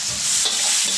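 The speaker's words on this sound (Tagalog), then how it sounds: "Haluin natin." Siopao meat filling with oyster sauce stirred in a hot pan, a short burst of loud close sizzling with a brief scrape of the spoon.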